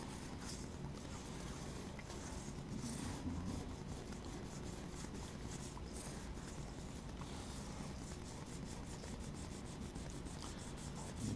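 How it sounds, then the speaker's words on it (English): A small piece of 400-grit wet-or-dry sandpaper is rubbed along the top of handlaid model railroad rail on a model of Nicholson Bridge, making a steady, continuous dry rubbing hiss throughout with no pauses. "I got a small piece of 400 grit wet or dry sandpaper, and I'll just run it along the top."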